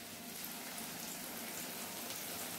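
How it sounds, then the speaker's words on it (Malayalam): Banana chips fry in hot oil for Onam, a soft, even crackling sizzle that stays faint and steady throughout with no talking. "ഇപ്പം നമ്മുടെ കായ ചിപ്സ് നമുക്ക് വറുത്ത് കോരാം"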